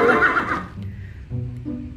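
Zebra sound effect from a toy animal, a loud, close horse-like whinny that rises at the start and then breaks into lower, shorter bursts before fading.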